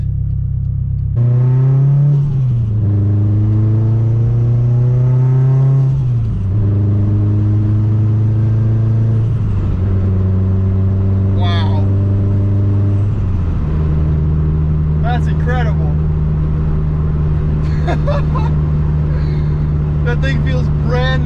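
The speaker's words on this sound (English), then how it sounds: "That's the smoothest I've ever felt this car shift." A Subaru STI accelerates hard through several gear changes, its engine pitch climbing and then dropping at each shift, heard loudly from inside the car with occasional speech over it.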